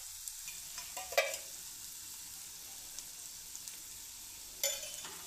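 Oil sizzles faintly in a pan while a Marathi chutney cooks, a soft steady frying hiss with a few brief stirring scrapes and clinks, quiet and close.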